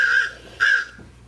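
A raven caws twice during a stage play, two harsh, close cries about half a second apart with a quiet room in between.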